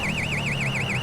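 An alarm in the video game GTA 5 with the LSPDFR police mod wails in a loud, fast, regularly wavering siren tone that sweeps up and down continuously, with no one speaking.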